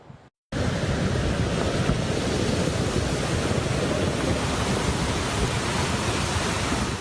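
Black, muddy water in Trabuco Creek, Orange County, rushes downstream carrying debris in a loud, constant roar that starts abruptly after a brief near-silence and keeps up steadily with no voices.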